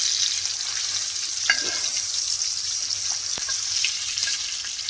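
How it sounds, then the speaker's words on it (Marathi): Spice-coated pomfret fries in oil over medium heat, an even, close sizzle with crackling that holds steady throughout, marked by an occasional light tap or scrape. "आता हा मासा मी मीडियम आचेवरती याला फ्राय करून घेणार आहे"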